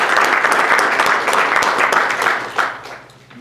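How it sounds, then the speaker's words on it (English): A room of attendees at a transit innovation session breaks into applause, loud dense clapping that holds steady and then tapers off toward the end. "pause for just a moment and applaud all of those folks for their support"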